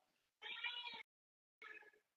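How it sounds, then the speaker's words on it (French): A domestic cat meows twice, a clear close meow followed after a silent pause by a shorter second one. "J'ai un chat très sonore."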